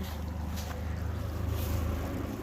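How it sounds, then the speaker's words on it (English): Steady low roar of highway traffic passes beside a field, a constant rumbling drone with faint wind noise over it and no clear individual vehicles. "we're right next to the highway, so can't help the noise"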